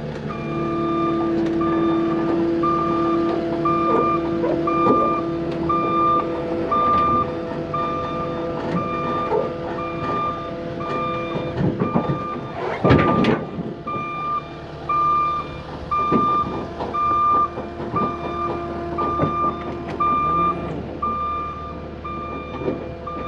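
A Halverson HWP 150 skid steer firewood processor backs off a trailer, its reversing alarm beeping in a steady repeated rhythm over a diesel engine rumble, with a sharp clunk partway through.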